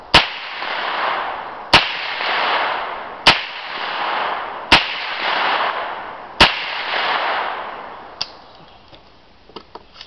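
Five loud gunshots from a PSA AR-9 firearm, spaced about one and a half seconds apart, each followed by a ringing echo outdoors, then a few fainter clicks and knocks.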